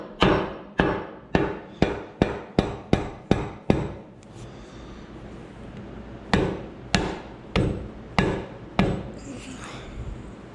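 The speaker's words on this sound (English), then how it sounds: "I'm gonna grab that rubber mallet down now." A rubber mallet strikes an engine part during a John Deere engine rebuild, with a quick run of about nine evenly spaced, dull thuds, a pause with faint scraping, then six or so more blows, close and alone.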